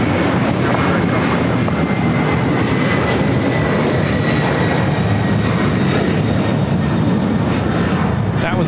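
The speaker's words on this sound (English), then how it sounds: "That was LATAM 2479 taking off to Lima on a 767-300ER." A LATAM Boeing 767-300ER takes off from LAX and its jet engines give a loud, steady roar that holds for the whole stretch. The roar stays broad and unbroken and doesn't fade.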